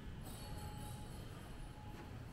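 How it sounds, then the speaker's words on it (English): Train rumbles past at a rail line in Luton, England, giving a steady low roar with faint high wheel squeal, moderately distant and continuous throughout, with no talk. "Some trains over here."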